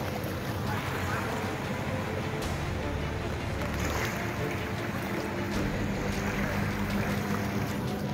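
Strong floodwater surges across the flooded Pondok Aren toll road, giving a continuous rushing, churning wash with gusty noise that stays fairly loud and unbroken.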